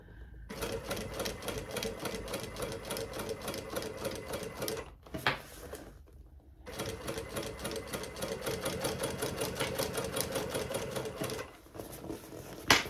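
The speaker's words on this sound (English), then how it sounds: "now we're stitching on the flap, so I'll just make sure that I've got my lining tucked down" A sewing machine runs steady rapid stitches along the flap of a lined handbag, close and continuous, pausing briefly twice before resuming its even whirring rhythm.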